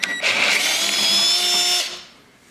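A power drill bores mounting holes for a Warn winch, a loud steady high-pitched whine that holds for under two seconds after a short start, then cuts off and fades.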